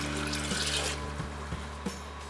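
Water pours into a jar holding mashed banana, yeast and sugar for homemade banana wine, a soft splashing rush over a steady background hum that eases off after about a second, with a few faint knocks.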